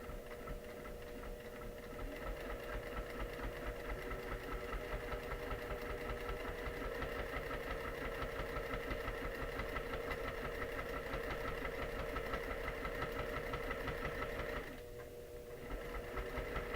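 A sewing machine runs a top stitch on a quilting project, a steady close mechanical hum and rapid needle rhythm that carries on for most of the stretch, then drops off briefly near the end before resuming.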